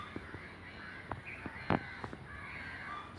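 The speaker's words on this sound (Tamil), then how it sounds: "அப்படியே காக்கா குயில் சத்தம்லாம் நல்லா கேட்குது." Crows caw at a railway station near Angamaly in Kerala, several short, moderately distant calls spaced irregularly, one louder than the rest, over a faint steady background hum.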